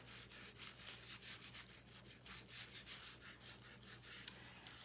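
Light hand rubbing on a decoupaged clipboard gives soft, rapid rhythmic scuffing strokes, faint and close, with no voices.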